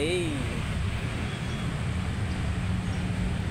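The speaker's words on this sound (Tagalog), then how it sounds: "Eh, traffic na naman" Dense Saturday afternoon street traffic rumbles in a steady, loud wash of engines and road noise, with a faint high whine near the start, all close and continuous.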